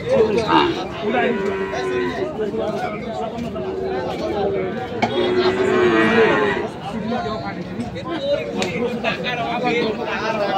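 Sahiwal bulls and calves moo loudly and repeatedly at a busy village cattle market, with long drawn-out calls rising over a constant background of crowd chatter and livestock noise.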